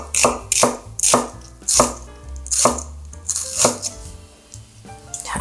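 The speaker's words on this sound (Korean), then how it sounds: "양파 반 개 썰어 놉니다" Knife cutting half an onion on a cutting board for a Korean potato side dish: sharp, evenly spaced thuds against the board, about eight strokes, close and loud with no talk.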